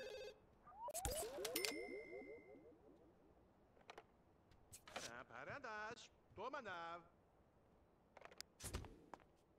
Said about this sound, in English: Why is the business phone ringing?